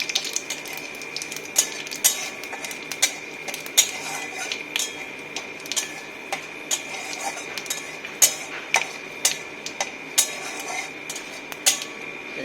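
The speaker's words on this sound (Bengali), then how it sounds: "এটা একটু আমি ভেজে নেব।" Panch phoron and radhuni seeds fry in a pan, with a thin steady sizzle beneath frequent sharp metallic clinks and taps of a spoon against the pan in an irregular rhythm.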